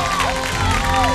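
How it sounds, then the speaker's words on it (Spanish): Studio audience at a Peruvian singing talent show applauding and cheering, a loud, dense burst of clapping and shouts lasting the whole moment. "Un aplauso para él por todo el esfuerzo."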